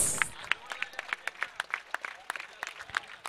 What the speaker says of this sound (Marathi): जोरदार टाळ्या आपोआप वाजतायत, अजून वाजल्या पाहिजेत